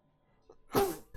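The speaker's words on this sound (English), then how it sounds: "There's a lot of dust flying around. It's making me sneeze." One sudden, close sneeze brought on by dust from cleaning, a short inhale followed by a loud burst.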